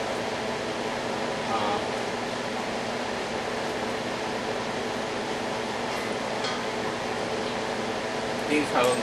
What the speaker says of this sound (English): You'll have to excuse the big heater running.